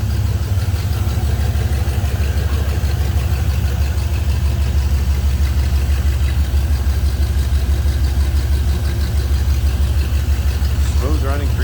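A 1957 GMC 100 pickup with a carbureted 347 V8 idles smoothly in a steady, deep, even rumble that continues unbroken and close.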